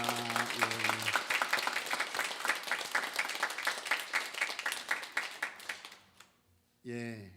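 Church congregation applauding during an Easter resurrection worship service: about six seconds of dense, steady clapping that thins out and fades, with a voice speaking briefly at the start and again once the clapping stops.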